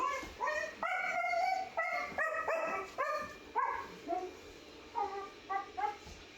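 A young puppy at home gives a run of high, yelping barks mixed with whiny whimpers, close and fairly loud, coming in short uneven bursts with brief pauses between them.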